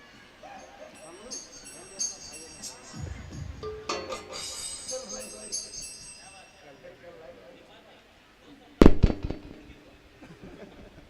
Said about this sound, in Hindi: फटाका फोड़े मस्त है